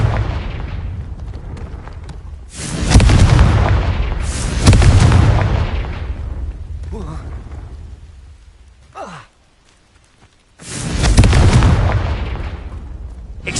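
Confringo fire spell blasts bursting in the Hogwarts Legacy video game, three loud booming explosions with long noisy tails, separated by quieter stretches and a brief near-silent gap before the last blast.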